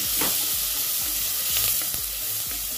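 Finely chopped tomato sautéing in hot oil with turmeric for a restaurant-style dal tadka, a loud, dense sizzle with a spoon scraping and stirring in a repeating rhythm close by.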